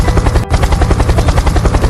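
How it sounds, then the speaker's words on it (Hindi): A cartoon drone sound effect roars loudly overhead as a steady rhythmic buzzing whir, briefly cut off for an instant, then continuing strongly through to the end. "वो आवाज एक ड्रोन की थी।"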